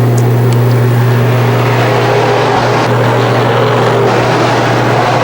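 Sportsman race cars at Can-Am Speedway roar continuously as they accelerate, a loud, dense, steady engine drone at a distance with no gaps and no voices.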